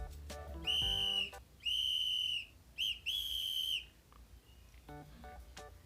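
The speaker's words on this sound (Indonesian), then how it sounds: "Peluit ditiup sehingga terjadi getaran udara dalam peluit." A shrill whistle is blown in three sharp blasts, the last split into a quick double toot, loud and close against a quiet background.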